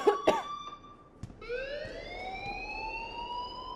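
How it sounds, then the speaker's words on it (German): In the video game Life is Strange, an electronic alarm starts up after a few coughs and a knock, then holds as a loud, steady, slowly rising siren-like wail to the end. "please turn off that alarm since that's your job"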